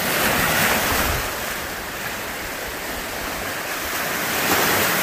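Waves washing on the rocky Lake Superior shore make a loud, broad, continuous roar, swelling slightly at the start and end, mixed with wind buffeting the microphone.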